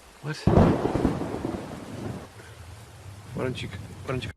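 A thunderstorm scene from a horror film: a loud crack of thunder rolls into steady rain, with a couple of brief voice-like sounds near the end.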